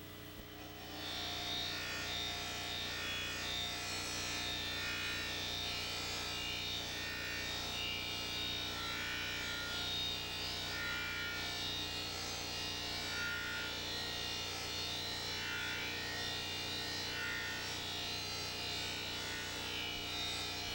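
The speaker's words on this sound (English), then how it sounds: "check to be sure the wheel is spinning smoothly, with the top of the wheel coming towards you" Buffing wheel, a sisal wheel loaded with emery compound, spinning on a stainless steel polishing machine: a steady motor whine and hum with a constant rubbing hiss, unbroken and even throughout, no voices.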